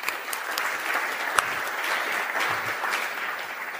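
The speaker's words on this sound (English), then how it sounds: "Let's all give a bit of applause." A conference audience at an open-source software keynote in Berlin claps steadily for a few seconds, a moderately loud, dense patter of many hands with one sharper clap standing out.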